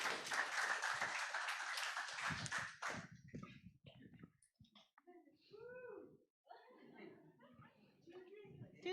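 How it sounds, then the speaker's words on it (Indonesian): An audience at a church seminar claps to welcome a pastor, a dense burst of applause lasting about three seconds that quickly stops, followed by scattered chuckles, a voice and murmured talk. "Mari kita tepuk tangan bersama-sama."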